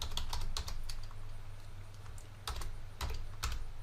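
Keys clatter on a computer keyboard in quick, light bursts with short pauses between them, close and quiet against a steady low hum.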